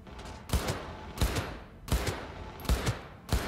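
Gunfire in the video game Cyberpunk 2077: five sharp, loud shots spaced roughly evenly about every 0.7 seconds, each with a short reverberant tail over a constant background of game noise, with no talking.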